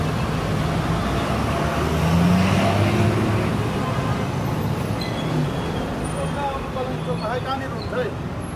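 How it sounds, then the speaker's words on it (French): Street traffic in Kathmandu with buses, a continuous roar of engines and passing vehicles, with a faint horn or two near the end and no clear voices. "C'est ça les bus"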